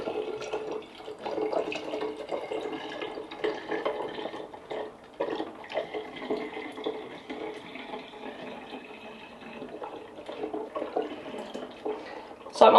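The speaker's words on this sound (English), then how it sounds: "And now I'm just going to fill this with some water." Tap water running steadily into a container for watering houseplants, a continuous splashing fill that lasts throughout with a small burst near the end.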